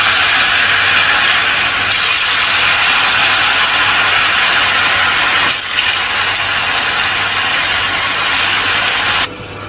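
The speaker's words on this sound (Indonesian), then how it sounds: "Kalau sudah dipotong-potong semuanya, kita akan goreng terlebih dahulu tahunya." Diced tofu frying in hot oil gives a steady, loud, unbroken sizzle that runs for nearly ten seconds with no voices, then drops slightly near the end.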